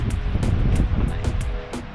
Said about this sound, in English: It's a bit windy, but we can't avoid that.